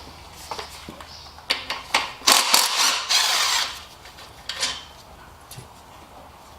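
A ratchet loosens 12mm bolts on the intake manifold of a V6 Mitsubishi engine, giving bursts of quick metallic clicking and scraping, close by and moderately loud, with pauses between strokes.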